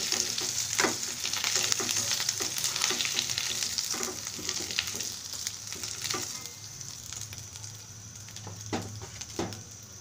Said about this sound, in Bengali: চিকেন যখন এভাবে লাল ভাজা হয়ে আসবে তখন আমরা তুলে নেব।